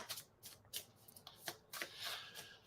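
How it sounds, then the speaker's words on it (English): Playing cards being shuffled by hand: several quick riffling bursts and soft slaps, close and quiet, with no talking. "I'm shuffling and I didn't pick them back up"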